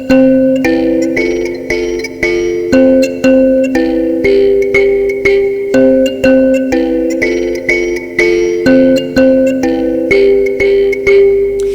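Both hands play together on an mbira, interlocking plucked tine notes forming a dense, steady repeating pattern that rings close and loud, with no talking.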